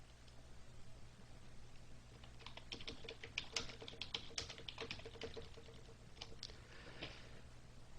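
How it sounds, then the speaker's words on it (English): Typing an email message on a computer keyboard: a quick, irregular patter of light plastic key clicks, close and fairly quiet over faint background hum, no voices. "Type the message."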